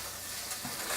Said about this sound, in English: thoroughly incorporate the onion and then saute the tofu